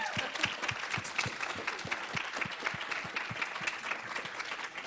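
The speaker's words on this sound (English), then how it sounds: "Can I just do another round of applause because that was amazing?" An audience gives a round of applause at an event, dense steady clapping from many hands filling the room, sustained evenly for several seconds without talk.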